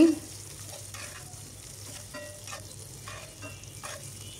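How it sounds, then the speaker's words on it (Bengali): Onions frying in hot oil for egg curry, a steady close sizzle with a few stirring scrapes and clicks. "দেখতে পাচ্ছেন পেঁয়াজগুলো খুব সুন্দর করে ভাজা হয়ে গেছে।"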